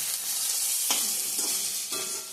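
Bay leaf, dried red chilli, green chilli, whole cumin and ginger sizzle in hot oil, a close, steady hiss broken by a few scraping stirs.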